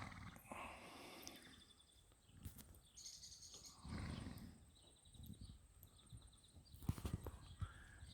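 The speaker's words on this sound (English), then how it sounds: "That horse of yours moves nicely, Don." Horse hooves clip-clopping at a New Zealand farm, faint and distant, several uneven hoof strikes over low background rustle with no talk.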